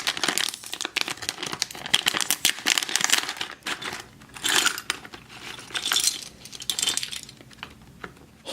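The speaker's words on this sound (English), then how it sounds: "Again, I've cut us a tear strip." A Playmobil figure blind pack is torn open and handled close up, giving crinkly foil rustles, tearing bursts and small clicking rattles of loose parts, with no talking.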